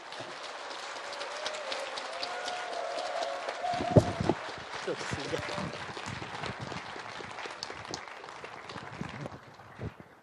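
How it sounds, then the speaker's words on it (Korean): An audience at a humanities lecture claps steadily to welcome a professor and music critic to the stage. The dense, even patter runs through the whole stretch with no voices over it. "여러분들의 큰 박수가 필요합니다."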